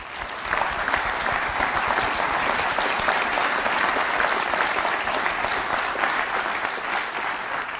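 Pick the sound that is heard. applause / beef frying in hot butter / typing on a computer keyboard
applause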